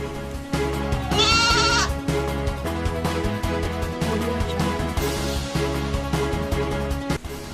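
A goat in a primary school grounds lets out one wavering bleat partway through, set against continuous loud background music with steady rhythmic pulses.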